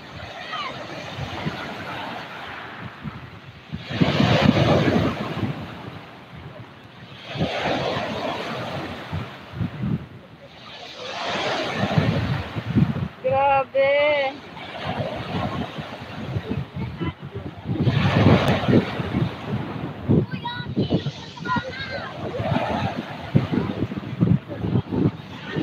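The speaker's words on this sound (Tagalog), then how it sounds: "Grabe, ang lakas ng palo ng alon." Strong sea waves crash at high tide on Dolomite beach, with repeated rushing surges of surf rising and falling under gusty wind noise while people talk nearby.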